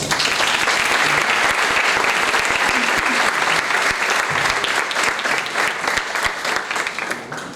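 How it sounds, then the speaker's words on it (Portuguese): An audience gives sustained, dense applause to welcome a speaker at an indigenous school education lecture, clapping loudly and evenly before tapering off at the end. "Uma salva de palmas."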